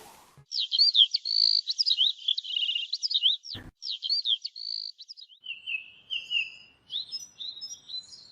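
Cartoon myna birds chirp in quick, repeated bright bursts, close and clear over near silence, with one brief knock partway through.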